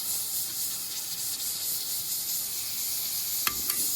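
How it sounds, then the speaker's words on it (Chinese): A new camping stove on high grassland hissing steadily as gas escapes while it fails to light, a constant close hiss with a couple of brief clicks near the end. "它点不着火呀，这是新炉子呀，怎么点不着火呀？"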